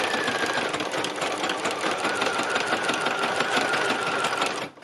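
A sewing machine stitches around a seed head design, running in a fast, continuous whirring rattle for nearly five seconds close up before stopping abruptly.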